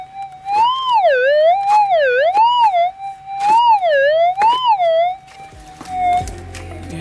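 Metal detector warbling in a gold-prospecting search over a buried target gives loud, wavering tones rising and falling in repeated swells for about five seconds, then fades into faint background noise.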